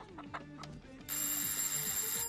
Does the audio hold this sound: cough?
no